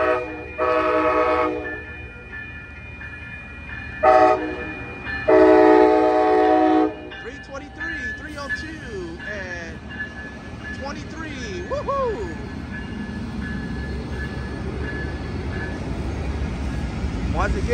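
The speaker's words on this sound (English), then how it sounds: "Triple header Starlight. Two ALC-42 and a P-42." Amtrak Coast Starlight train 11, a triple-header led by two ALC-42 locomotives and a P-42, blasts its horn in several loud bursts at a crossing in Oakland. It then rumbles steadily past close by while a voice talks over it.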